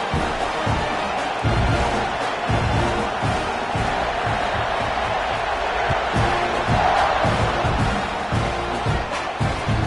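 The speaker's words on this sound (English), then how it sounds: "this crowd now ready to get behind them" A football stadium crowd roars at kickoff in a dense, sustained wall of cheering and shouts that holds steady throughout.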